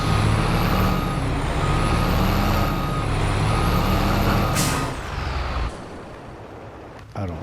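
A truck in the game Farming Simulator 22 rumbles loudly with a steady engine drone and a wavering high tone, then lets out an air-brake hiss and drops to a quieter idle.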